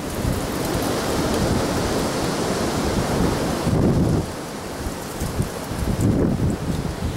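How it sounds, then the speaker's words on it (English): Wind blows hard outdoors at a work shop, a dense roaring buffet across the microphone that surges and eases without a break. "Boy, this wind really blows."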